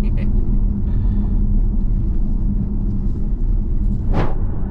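A Mazda CX-60 driving over a damaged, uneven stretch of toll road, with a continuous low rumble from inside the cabin and one sharp, brief thump near the end.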